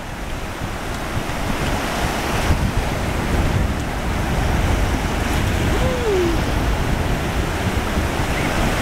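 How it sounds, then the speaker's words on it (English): Atlantic Ocean waves wash steadily onto the shore in a continuous broadband roar, with wind buffeting the microphone throughout. "Here it comes, Emma! Here comes the water"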